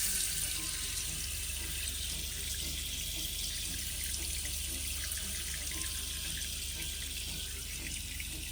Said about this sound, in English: maybe, like, run the faucet for a second